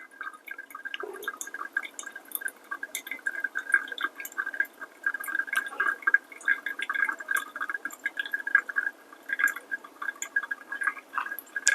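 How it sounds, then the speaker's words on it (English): Water trickles and drips faintly onto coffee grounds in a brewer during a pour-over topped up to 120 grams, a soft, steady, close pouring sound with a thin gurgle and no talk. "I'm going to just top up water all the way to 120 grams"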